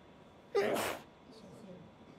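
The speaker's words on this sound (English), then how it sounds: "There is nothing worse than sneezing in a mask." A single sneeze muffled by a face mask, one sharp breathy burst close to the mic in an otherwise quiet room, followed by soft low murmuring.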